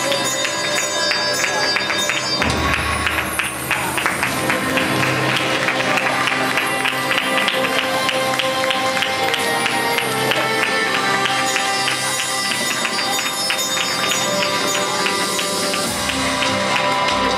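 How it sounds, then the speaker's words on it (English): A crowd applauds and cheers as a film cast arrives on the red carpet at a Japanese film festival launch, sustained clapping mixed with music and voices throughout. "let's give them a big round of applause"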